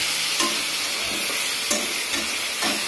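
Potatoes, tomatoes and eggplant cooking as a curry in hot oil sizzle and hiss steadily and close by, with a few soft stirring scrapes breaking through at intervals.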